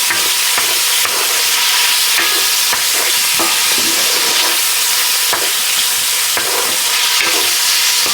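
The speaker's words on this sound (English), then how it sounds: "So we're just gonna cook down some bacon." Bacon frying loudly in a pan, a dense close-up sizzle and crackle with repeated sharp pops and stirring knocks throughout, no voices.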